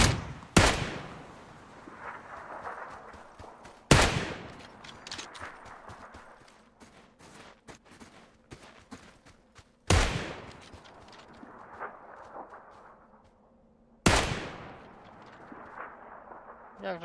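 Loud, sharp gunshots from the video game PUBG ring out at intervals, each followed by a booming echo, with quieter clicks and faint voices in between.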